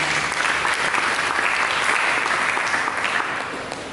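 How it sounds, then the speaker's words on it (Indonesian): A church congregation gives loud, sustained applause during a service, a dense wash of many hands clapping together that fades slightly at the end. "Mari kita berikan tepuk tangan bagi Yesus"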